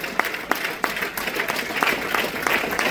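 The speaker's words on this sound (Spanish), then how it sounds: "fuertes aplausos es para Dios" A church congregation claps in praise, a lively crowd applause with sharp individual claps standing out in a loose rhythm, fairly close and continuous throughout.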